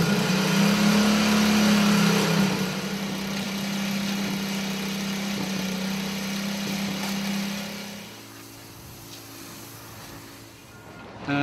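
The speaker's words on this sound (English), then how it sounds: "I connected a motorbike engine to this water pump." A motorbike engine driving a water pump for vehicle washing runs steadily with a strong low hum, loud and close, then eases to a quieter idle near the end.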